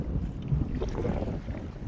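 Steady wind roaring at sea around a fishing boat, a constant broadband rush with low buffeting across the microphone, loud and unbroken throughout.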